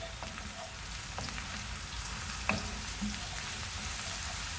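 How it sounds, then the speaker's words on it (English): Garlic frying in a pan alongside onion, a dense continuous sizzle like light rain with occasional soft pops and clicks, steady and close, no talking. "next I'm gonna put in the garlic"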